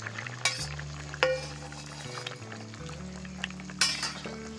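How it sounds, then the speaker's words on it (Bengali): Fried parshe fish go into a pan of simmering Bengali mustard-oil fish curry. The quiet kitchen scene has soft sizzling and bubbling, a few sharp metallic clinks of a spatula on the pan, and a low hum underneath. "এবার এই ভেজে রাখা মাছগুলো আমি দিয়ে দিচ্ছি।"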